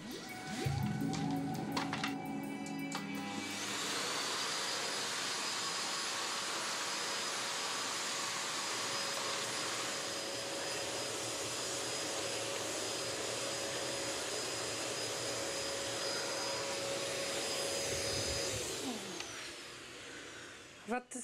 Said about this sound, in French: L'aspirateur est puissant et bruyant.